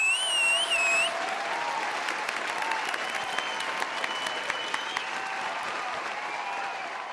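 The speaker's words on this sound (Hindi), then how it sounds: "जोरदार तालियां" Crowd applause rolls on through a TV comedy scene after a police inspector's appointment is announced, sustained clapping at moderate distance with a short musical sting at the start and faint tones lingering underneath.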